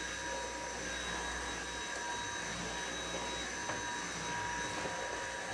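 A Dyson V8 cordless vacuum cleaner runs on low speed over hardwood flooring, producing a steady, fairly loud whining roar of motor and airflow without pause and with no voices.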